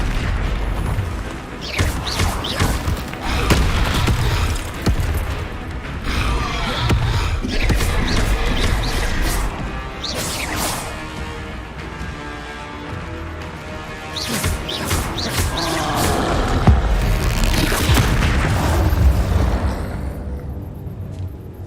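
Spell combat in the video game Hogwarts Legacy, with an Expelliarmus cast among booming magical blasts and crashes, loud and continuous over game music for about twenty seconds.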